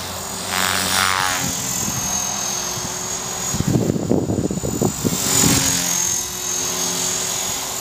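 An EXI 450 RC model helicopter fitted with a 401 gyro in flight, its steady high motor whine droning throughout, with a louder, choppy rotor-buffeting passage in the middle as it passes close.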